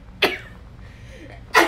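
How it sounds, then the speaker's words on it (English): Two quick sneezes, each a sharp close burst, roughly a second and a half apart, with a quiet room between them. "I don't want to sneeze."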